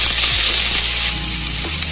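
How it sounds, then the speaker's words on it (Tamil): Fennel seeds fry in hot oil in a pan, giving a steady, loud, close hiss of sizzling with a few faint stirring knocks, and no voices. "சோம்பு கொஞ்ச நேரம் பொரியட்டும்."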